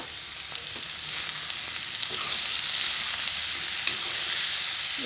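Finely chopped banana flower frying in a pan with potato and onion, a steady bright sizzle that grows slightly louder, with faint stirring clicks.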